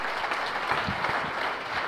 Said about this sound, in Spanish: Dale un aplauso bien fuerte a mi Señor.